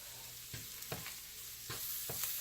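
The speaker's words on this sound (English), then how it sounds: "now I'm going to add a little bit of this flour and cook that flour taste off" Flour cooks in oil in a pan for turkey gravy, a soft, quiet sizzle broken by a few light scrapes from stirring.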